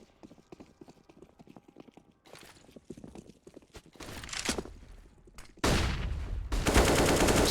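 Rapid bursts of AK rifle fire in a CS:GO pro match on the Train map, starting sparse and building into loud, dense volleys by the end, mixed with footsteps and game sounds.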